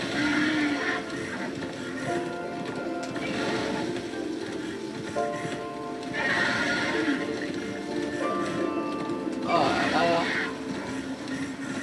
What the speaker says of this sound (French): Il a vraiment une réaction typique d'un vrai cheval quand vous l'invoquez, si vous bougez pas.